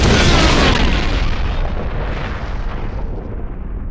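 A rocket launcher fired in the Resident Evil remake video game, one huge close explosion that booms at full loudness, then rumbles and fades slowly over several seconds, no voices.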